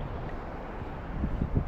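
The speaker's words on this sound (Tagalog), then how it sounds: "malakas yung hangin" Strong wind buffeting an open fishing spot during ultralight fishing, a steady low rumble of gusts against the microphone that swells louder toward the end, with no voices.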